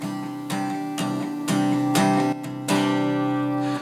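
An acoustic guitar strums the chorus chords of Picture This's "Winona Ryder" in steady, evenly spaced strokes with ringing chords, close and clear, with no voice.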